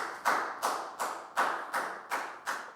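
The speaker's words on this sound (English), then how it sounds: "And a big round of applause for everyone doing a great job." Classroom applause during a Year 4 maths lesson: seven evenly spaced bursts of clapping, each a sharp onset fading quickly, moderately loud, no talking.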